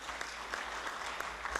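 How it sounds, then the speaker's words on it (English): Faint applause from an audience at an African cybercrime and electronic evidence forum, a soft steady patter of many hands lasting under two seconds, heard from a distance. "Let's give them a big clap."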